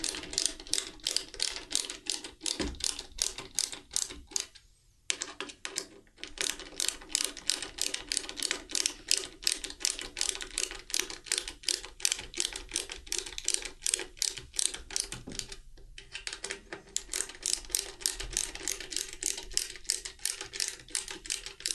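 Fasteners on an iPad kiosk are tightened with a ratcheting tool. It gives a fast, steady run of close mechanical clicks with brief pauses between turns, and no talking.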